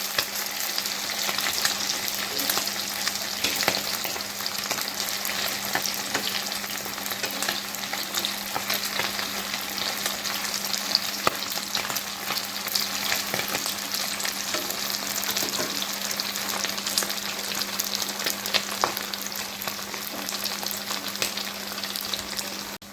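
Kachki fish pakoras fry in a pan over a medium flame, giving a dense, even crackling sizzle that stays close and constant throughout, with no voices.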